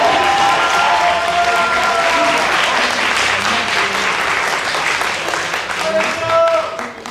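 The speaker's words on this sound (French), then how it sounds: "Un tonnerre d'applaudissements pour eux, s'il vous plaît." Audience applause greets two contestants at the final of an inter-university eloquence competition, a loud, continuous wash of clapping with a few voices and cheers mixed in, swelling slightly before tapering off.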